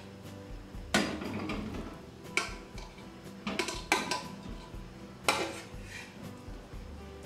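Boiled cassava is tipped from a cooking pot into a bowl after the water is drained. Scattered clinks and knocks of pot and utensils sound up close, with no talking.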